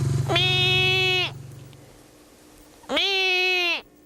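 Sheep on a farm near woods at dusk give two loud, close bleats about two seconds apart, each a long wavering cry, with quiet rustling background between them.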